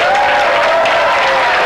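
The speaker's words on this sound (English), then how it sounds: "I want everybody to stand up and applaud and give your thanks to Mr. Corey Goode," An audience applauds loudly and steadily in a crowded event hall, a dense wash of clapping with some cheering mixed in, continuous across the whole short stretch.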